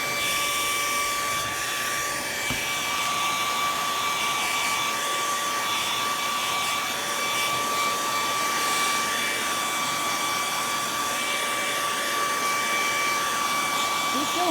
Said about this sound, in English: So I'm going to go ahead and give it a quick blow dry.